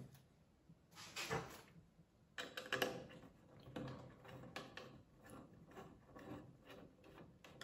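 A screw being driven into an Enermax StarryFort PC case during assembly, heard as a faint run of clicking, ratcheting mechanical turns with a few louder bursts, fairly close and quiet, without talk.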